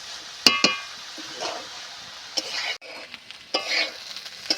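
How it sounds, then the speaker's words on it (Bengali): A spatula scrapes and clinks against a pan while sliced snake gourd sizzles steadily underneath, with a few sharp metallic taps near the start. "এইভাবে নেড়ে নেড়ে আমি জলটা শুকনো মতো করে নেব।"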